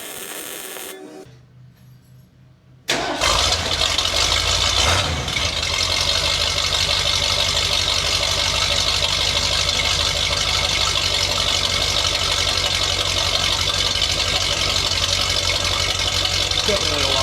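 A 1979 Ford Bronco with a newly fitted exhaust starts up after a brief quiet crank, then settles into a steady, loud, close idle that drones evenly for the rest of the time.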